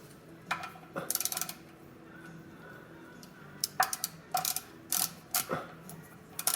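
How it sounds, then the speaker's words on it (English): Torque wrench ratchets in short bursts of sharp clicks while tightening the oil drain plug of a BMW M550i, the close metallic clicking coming in irregular clusters over a quiet garage background. "then we will torque it. We're going to go about 15 foot-pounds."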